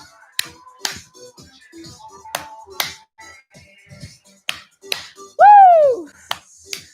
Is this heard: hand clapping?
yes